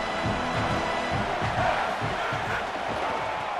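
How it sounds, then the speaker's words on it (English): A stadium crowd roars and cheers continuously at an SEC football game featuring LSU, a dense, sustained wall of voices with rhythmic swells, close and loud throughout. "This crowd knows when to bring it."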